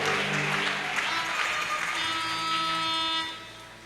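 A church congregation applauds during a Sunday worship service, steady dense clapping filling the room for several seconds alongside sustained tones, then fading at the end.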